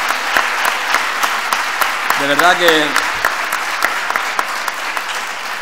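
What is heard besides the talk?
audience applause at congress closing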